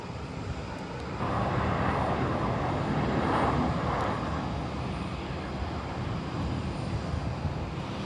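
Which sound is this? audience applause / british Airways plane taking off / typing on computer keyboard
british Airways plane taking off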